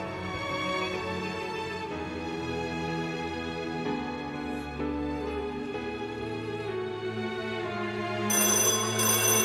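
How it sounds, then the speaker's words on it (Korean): A telephone bell rings steadily through a dramatic musical underscore, its tone blending with sustained orchestral chords before a brighter burst near the end. "호련히 전화 소리가 울렸다"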